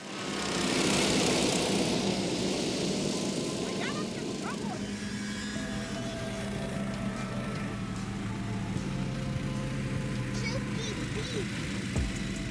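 Snowmobiles and motorized sleds, including a 17 HP S-Fox, rev their engines at the start of a winter race, a steady loud buzzing drone that holds throughout, with voices talking over it.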